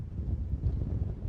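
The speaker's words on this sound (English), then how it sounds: "You can see the wind is really, really strong today" Strong wind gusting at around 37 mph across a scenic outdoor lookout in Queensland's Scenic Rim, a low rumbling buffet against the microphone that swells and dips, with no talking.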